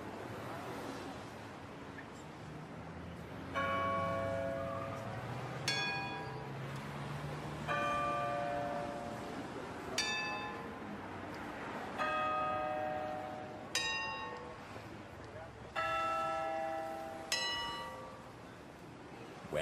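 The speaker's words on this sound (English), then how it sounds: "Big Ben is ringing." Big Ben's bell tolls in a Peppa Pig video game set in London, with struck bell chimes ringing out repeatedly at intervals, each decaying slowly over a soft ambient wash.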